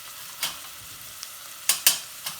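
Durban curry powder and onions fry in a pan with a faint steady hiss, broken by a few sharp close metallic taps and scrapes from a spoon.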